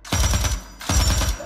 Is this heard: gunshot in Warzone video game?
yes